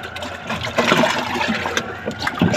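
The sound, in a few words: water being mixed with vaccine dilution for tank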